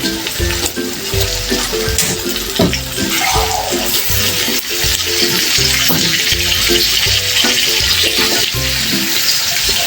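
Large shrimp frying in a pan with garlic and onion, a steady loud sizzle with intermittent stirring and clattering of utensils throughout.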